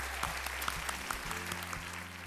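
A studio audience applauds a team on a family game show, a full, even burst of clapping that runs the whole moment, with music playing underneath.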